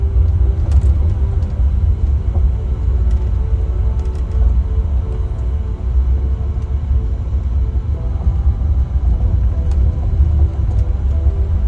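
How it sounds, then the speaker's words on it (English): A car rolling slowly over gravel, heard from inside as a loud, steady low rumble with faint crunching ticks, no voices. "Always want to go slow on gravel."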